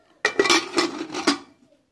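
Fried potatoes go into a pot of mutton keema and get a quick stir, heard as a short burst of clattering metal scrapes and knocks from a spoon against the pot, close and loud for about a second before fading.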